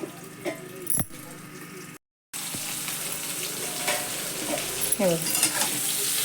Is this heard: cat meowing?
no